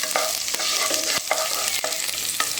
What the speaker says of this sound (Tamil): பூண்டை நல்லா பொரியும் போதே